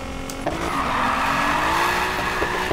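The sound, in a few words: car sliding and braking in Need for Speed Payback video game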